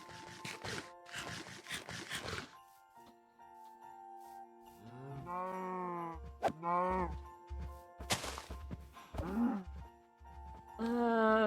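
Cows in the Minecraft video game moo in repeated drawn-out calls, several overlapping at moderate distance, mixed with game sounds and occasional hits.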